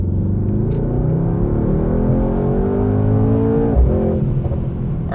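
A 2020 Mercedes-AMG GT 63 S accelerates hard up a highway on-ramp in race mode. The engine's deep rumble climbs steadily through the gear, loud and continuous from inside the car, with no voices.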